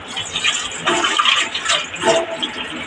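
Water gushes and splashes in uneven surges during home cooking in an Indian kitchen, loud and close with brief bursts, with no talk heard.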